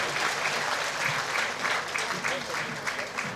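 At a school's annual day event, an audience claps for a child receiving a certificate, producing a moderately quiet, continuous patter of many hands throughout.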